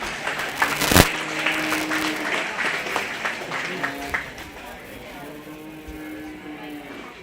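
Audience applause at a 4-H/FFA beef and bucket calf cattle kids show, a short burst of scattered claps that fades away, with background chatter and a livestock barn murmur underneath.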